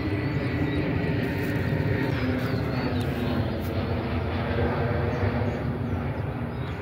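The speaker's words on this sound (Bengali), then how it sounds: "এই যে বিমান যাচ্ছে দেখেন মাথার উপর দিয়ে।" An airplane passes overhead above farmland, a continuous broad roaring drone that holds steady throughout, with faint bird chirps above it.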